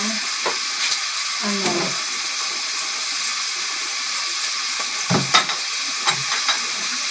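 Onions sautéing in a pan make a faint sizzle, broken by several spoon scrapes and knocks against the pan.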